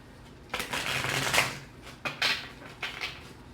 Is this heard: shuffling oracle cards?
yes